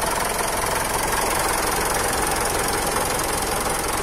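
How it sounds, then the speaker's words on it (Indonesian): A Mitsubishi Pajero Sport Dakar common rail turbo diesel engine idles steadily up close, a dense, even clattering rumble with no pauses or changes in pace. "suara dieselnya itu tidak terlalu berisik"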